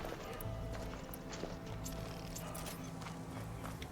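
A mount's hoofbeats clip-clop in a quick, steady rhythm across the ground in the video game Horizon Forbidden West, set close over a dense background mix.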